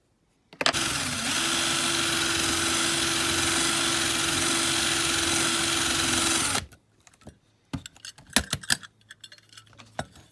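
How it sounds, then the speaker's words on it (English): A drill whines steadily for about six seconds with a droning motor tone while drilling into a diecast metal Dinky toy ambulance, then stops, followed by scattered clicks and light clattering. "I think I'll just move up to a bigger drill."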